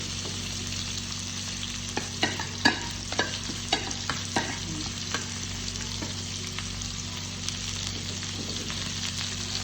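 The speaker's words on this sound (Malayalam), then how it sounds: "മസാല ആക്കിയിട്ടൊന്ന് മറിച്ചിടുക." Masala frying and being stirred in a pan, with a steady sizzle and a string of scraping spoon strokes in the middle seconds, close and moderately loud, with no talking.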